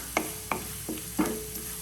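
Upma made from idli being stirred and sautéed in a pan, four distinct scraping strokes of a spoon at roughly even intervals over a faint sizzle, close and fairly soft; nobody talks.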